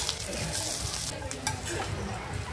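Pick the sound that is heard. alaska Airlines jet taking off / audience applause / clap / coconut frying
coconut frying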